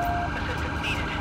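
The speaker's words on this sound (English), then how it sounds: "Let's call for a paramedic. Looking good. Ambulance." An ambulance siren in GTA 5 with the LSPDFR police mod, a steady wailing tone blended into dense background street and engine noise, with no talking.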